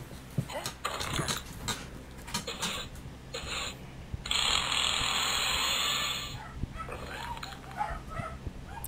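A sustained mechanical drilling whir from a drill in the video game Henry Stickman: Escaping the Prison runs for about two seconds, surrounded by clanks, ratcheting clicks and other busy game noises.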